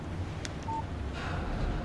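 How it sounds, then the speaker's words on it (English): A phone text-message alert sounds in the Alan Wake Remastered game, with a short electronic chime and a brief beep over a steady low background hum. "Text message from Barry."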